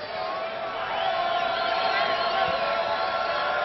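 A basketball arena crowd in Birmingham roars steadily and loudly during a Middle Tennessee versus UAB game, swelling after the first second, with a commentator's voice beneath it.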